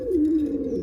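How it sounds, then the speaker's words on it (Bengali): A single short, low throaty coo from a baby desi pigeon, close and fairly loud, one sustained warbling note. "এটাও বাচ্চা কবুতর"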